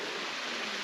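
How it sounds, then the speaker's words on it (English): A waterfall in a side canyon roars as a steady, dense rush of falling water, close and loud throughout the brief moment. "Look at the waterfalls."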